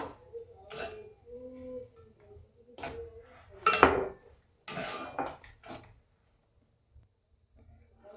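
Semolina dough, made from half a cup of suji, is stirred in a pan with a utensil that scrapes and knocks against the metal in intermittent bursts, with quiet pauses between them.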